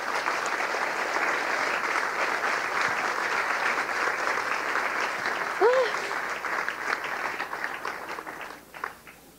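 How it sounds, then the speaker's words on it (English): An audience at a science screening event applauds a newly introduced speaker with a long, even roar of clapping that holds steady, then thins and tapers away toward the end. "May we all give a big round of applause for Dr."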